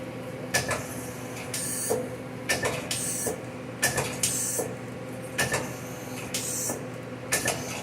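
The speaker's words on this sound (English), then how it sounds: "Can you index the turret for me?" The turret of a 2000 Daewoo Puma 300B CNC lathe indexes repeatedly, each cycle a mechanical clunk and whir followed by hissing release and clicks, close and regular, with no voices.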